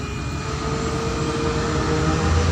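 A Honda Beat FI scooter with an idle-stop fault and stuttering engine, held at steady throttle, giving a loud continuous close engine drone without distinct rev changes, with no talk.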